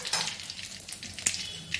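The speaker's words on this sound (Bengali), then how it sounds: "এই তেলটার মধ্যে আমি ফোড়নে দিয়ে দেবো জিরে, তেজপাতা, শুকনো লঙ্কা।" Cumin seeds, bay leaf and dried red chili crackle and sizzle in hot oil, a close, bright frying hiss with a few sharp pops and a metallic clink of a spoon against the pan.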